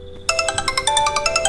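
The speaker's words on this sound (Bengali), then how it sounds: "তাদের কথার মাঝেই হঠাৎ করে বেজে উঠল আদিত্যের ফোনটা।" A mobile phone ringtone bursts in loudly and close, a bright repeating melodic trill that pulses steadily after a short quiet lead-in.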